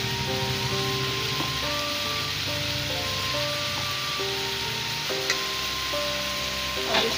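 Chicken liver and pota sizzle steadily in a pan, likely with peas, a continuous frying hiss under light background music.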